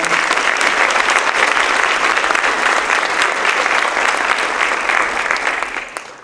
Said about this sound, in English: Please also join me in giving a round of applause to the generous donors